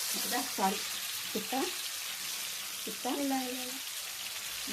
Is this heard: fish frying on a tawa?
yes